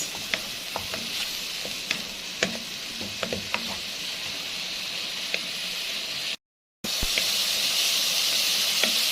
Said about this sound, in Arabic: هديله تشويحه طبعا قبل ما انزل بالايه، بالكبد والقوانص